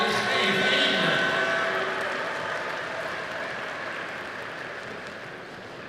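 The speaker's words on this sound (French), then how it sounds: "On peut les applaudir après ces combats qui ont été très vives." Audience applause for the finalists at a Vovinam Viet Vo Dao World Cup medal ceremony, a dense steady clapping that swells early then slowly fades over several seconds, with faint crowd noise.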